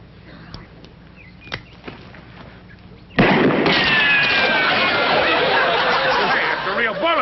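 A single sharp gunshot rings out in a staged comedy Western duel, followed by a dense, loud wash of noise that continues to the end.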